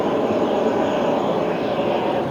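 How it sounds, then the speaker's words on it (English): An airliner pushing back from the gate at JFK airport, with a loud, steady jet engine roar and broadband whine holding constant throughout, no talking. "November 301 PQ is pushing back from the gate."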